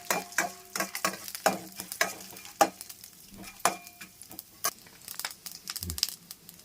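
Chana dal and urad dal fry in hot oil in a pan, close and crisp, with a steady run of sharp crackles and pops over a soft sizzle and the occasional scrape of stirring.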